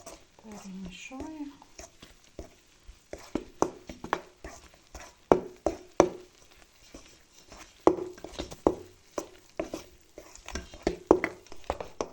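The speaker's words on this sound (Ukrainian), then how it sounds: "все добре перемішала" A spoon stirs a thick dough mixture of sifted flour in a home kitchen. It makes a string of soft, squishy taps and scrapes at a fairly steady rhythm, with brief quiet talk near the start.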